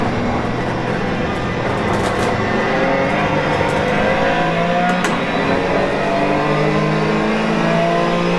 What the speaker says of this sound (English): So Pete, I'll leave you to do a clean lap and see how you go on.